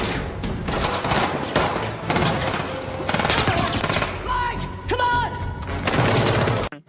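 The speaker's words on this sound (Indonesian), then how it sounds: "Adu tembak pun terjadi lagi." Gunfire fills a film gunfight in London as terrorists surround the heroes, with loud, dense rapid bursts and volleys running almost continuously, a few sharp single shots standing out, and the roar cutting off abruptly at the end.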